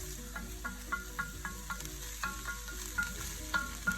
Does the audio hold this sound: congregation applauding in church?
no